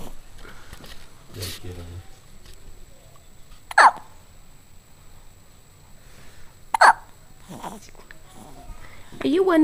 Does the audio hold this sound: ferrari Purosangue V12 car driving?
no